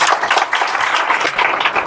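Audience applause for a student at a motivational talk, a dense continuous wash of many hands clapping at steady volume with no talk over it.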